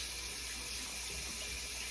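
Tap water runs steadily in a sink while soap is rinsed out of makeup brush bristles, a soft continuous hiss and splash with no break, fairly quiet and close.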